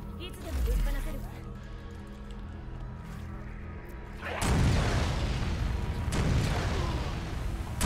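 A grenade blasts in the video game Resident Evil Resistance, one sudden loud boom with a rumbling burst that stays dense and noisy, after a quieter stretch of game sounds.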